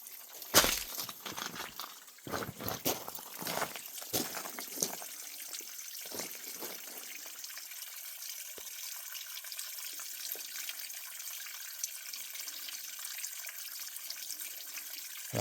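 Spring water running along an Ozark Mountains trail, a steady faint trickle and splash of flowing water, with a few louder rustles and knocks early on.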